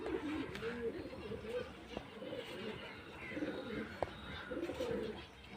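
Domestic gola pigeons of the Andhra gola Madras line coo repeatedly in low, throaty phrases, fairly close, over a faint murmur of background voices.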